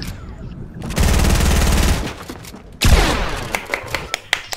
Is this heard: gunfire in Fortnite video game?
yes